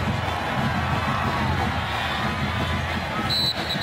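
A stadium crowd roars steadily at a 2016 Oklahoma vs Texas Tech college football game, a dense sustained wash of cheering heard from within the stands, with a brief whistle-like tone near the end.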